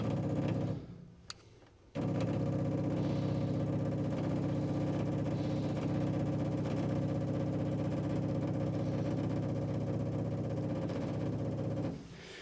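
A 1961 Buick Electra 225 convertible engine catches after a brief quiet gap and runs at a steady idle, a constant even rumble close by that drops off slightly right at the end.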